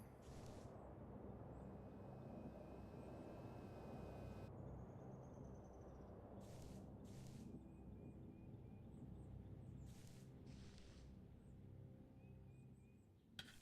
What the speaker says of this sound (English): Oh, that noise is just the radio.